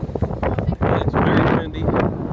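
Strong wind gusting across a seaside fishing pier, buffeting the microphone in loud, uneven rushes and rumbles that swell and dip over a couple of seconds, with no talking.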